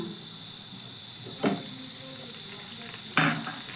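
Chhana filling frying in a pan with a steady soft sizzle, broken by two brief scraping stirs of a utensil against the pan, close and fairly quiet.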